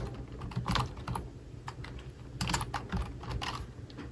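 Close, quiet keystrokes on a computer keyboard come in irregular bursts of typing as someone logs on to a church's tech-booth computer.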